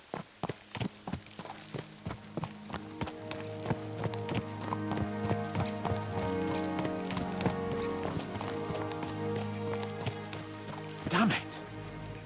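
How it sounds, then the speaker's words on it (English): Horses galloping in the video game Kingdom Come: Deliverance II, rapid clip-clop hoofbeats pounding steadily throughout at close range, with a faint whinny near the end. "Let's really spur these horses on, eh?"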